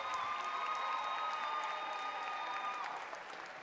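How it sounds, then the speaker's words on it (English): An audience applauds a school presenter from Stevens Elementary at a district convocation: steady, dense clapping that carries loudly throughout, with a sustained tone over it, tapering slightly at the end. "Another round of applause for Miss Amanda Hood from Stevens Elementary"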